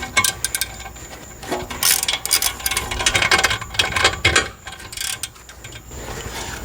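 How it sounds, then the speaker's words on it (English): Torque wrench tightening front brake caliper bolts on an Audi C7 3.0T, giving a series of close metallic ratcheting clicks and clunks in irregular bursts, with no talking. "you torque them to 30 Newton meters"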